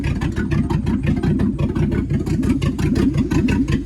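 A Volvo C30 engine, revived after sitting for years and getting too much fuel, runs loud and close with a rough, pulsing idle throughout.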